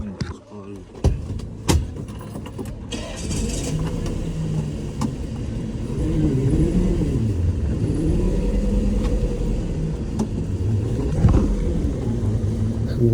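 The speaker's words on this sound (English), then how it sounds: "We go on a test drive to see if the car, has the internals are in good condition." An inspected used car out on a test drive: a low engine and road rumble builds and holds steady after a few sharp clunks like a door or window, with faint voices here and there.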